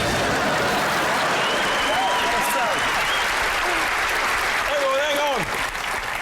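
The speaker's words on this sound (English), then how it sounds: "What are you clapping for?" Loud, sustained studio audience applause at a magic show fills the whole stretch, dense and steady, easing slightly near the end, with a few voices and whistles riding over it.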